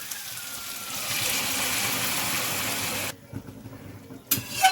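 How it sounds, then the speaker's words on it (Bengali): Hot water poured into a pan of jackfruit and prawn curry, a steady gushing stream for about three seconds, then stopping with a few faint clinks after. "এবার গরম জল দিয়ে দিচ্ছি।"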